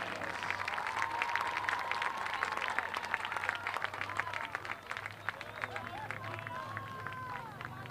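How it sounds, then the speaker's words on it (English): A stadium crowd at a high school football game claps and cheers for the Enid High School Big Blue Band senior class, a dense wash of applause lasting throughout with faint crowd chatter and distant voices mixed in. "give a big round of applause for the Enid High School Big Blue Band Senior Class"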